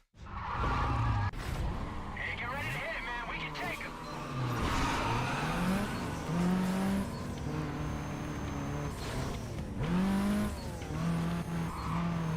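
A racing car engine in the Need for Speed video game revs and shifts through gears with rising and falling whines and tire squeals, loud and continuous throughout.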